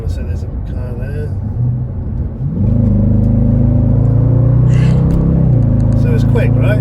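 A Jaguar XFR with a tuned ZF 8-speed gearbox accelerates in sport mode, its engine rumbling steadily from inside the cabin with a quick shift partway through, while people talk over the start.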